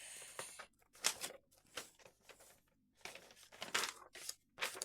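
Parcel tape is pulled off the roll and torn in a string of rough ripping and crinkling bursts separated by brief pauses, close up in a quiet room, with no talk.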